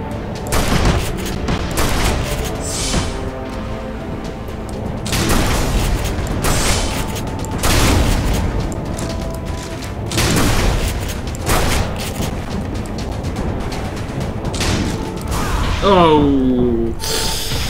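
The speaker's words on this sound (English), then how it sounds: "Oh, this gun is so hard to hit anything with. How do I hit anyone with this gun?" Rapid video game gunfire from Tribes: Ascend keeps going through the whole stretch in repeated bursts and booms, loud and continuous, with a voice talking over parts of it.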